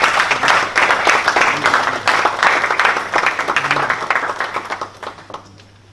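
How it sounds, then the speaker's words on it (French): An audience at an evening event applauds on request, a dense wash of clapping that holds steady for about five seconds before thinning out and fading, over a faint low hum. "je vous demande de les applaudir s'il vous plaît"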